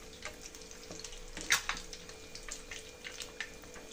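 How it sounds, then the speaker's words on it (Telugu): Egg bajji deep frying in oil give off a soft, steady crackle and bubbling with scattered pops and one sharper sputter partway through. "ఎగ్ బజ్జీ అయితే డీప్ ఫ్రై అయిపోయినాయి"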